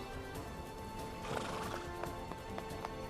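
A horse neighs with a loud whinny mid-clip while hooves clip-clop steadily in a rhythmic pattern, set against a continuous outdoor background.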